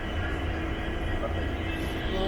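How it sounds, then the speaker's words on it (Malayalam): An express train hauled by an EMD WDP4D diesel locomotive rolls in at a station platform, a loud, steady low rumble and drone filling the whole stretch. "അപ്പോൾ ഫൈനലി നമ്മുടെ ട്രെയിനിൽ കയറി വരുന്നുണ്ട്."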